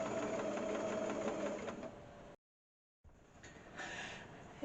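A sewing machine chain-piecing fabric runs in a steady, rapid mechanical whirr that stops abruptly, then resumes more quietly after a short silence; close and alone, with no talk.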